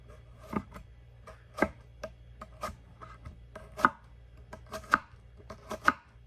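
An onion halved and chopped with radial cuts on a cutting board, a series of crisp knife strikes at uneven intervals, close and clear against a quiet low hum, with no talking.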